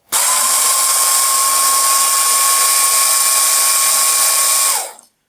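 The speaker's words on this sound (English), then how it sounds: "It's normal for it to have some, well, obvious noise because it's a working motor" A small Banebot electric motor whirs steadily at high pitch for about five seconds, starting abruptly and winding down at the end, loud and close.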